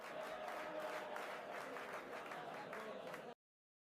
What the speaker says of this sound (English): Everyone at the table claps